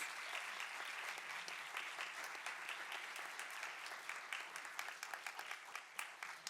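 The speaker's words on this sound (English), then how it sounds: "Can we get a round of applause for our wonderful thespians?" Audience applause at a school thespian induction ceremony, a steady wash of many hands clapping throughout, thinning slightly toward the end into more distinct individual claps.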